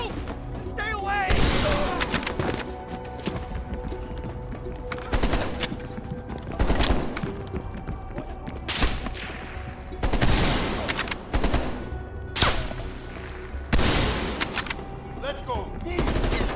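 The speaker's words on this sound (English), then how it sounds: "They're shooting at us!" Heavy gunfire in the video game Call of Duty: Black Ops Cold War, with repeated loud automatic bursts and shots in close succession throughout, and voices shouting in between.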